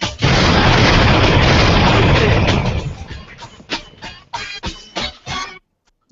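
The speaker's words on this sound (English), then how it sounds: "That was a lot of explosions." Explosion sound effects roar in a science show intro, a dense, loud rumble that breaks into a run of sharp blasts and pops before cutting off to silence.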